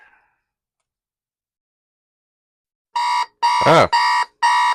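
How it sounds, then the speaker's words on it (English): An X-10 Radio Shack alarm clock sounds its alarm in a series of four loud, electronic beeping bursts with short gaps between them, starting after about three seconds of near silence. A person makes a brief vocal sound during the second burst. "that's the alarm"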